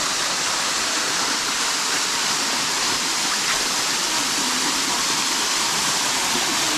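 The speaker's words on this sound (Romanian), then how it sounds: "Asta este cascada." A waterfall roars as a steady, dense hiss of falling water, loud and unbroken throughout, with no voices.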